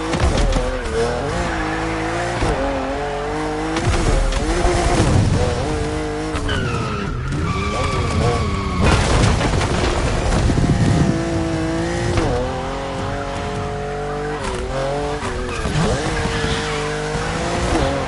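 Drift cars of about 1,000 horsepower in the racing game The Crew Motorfest, loud sustained tire squeal and skidding with engines revving and rising and falling in pitch, continuous and close throughout.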